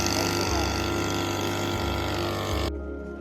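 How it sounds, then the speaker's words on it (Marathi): A farm water pump's motor drones steadily with a constant mechanical hum, its higher whine dropping away near the end. "आज आला तर पंप चालू आहे."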